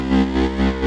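Distorted guitar tone through an effects unit, loud and buzzy, pulsing in about four even swells in under a second.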